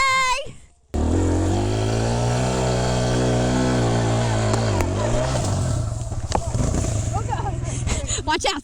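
A brand new Kawasaki KLX140 dirt bike engine runs close by, holding a steady buzzing idle before revving up and pulling away, with voices heard near the end.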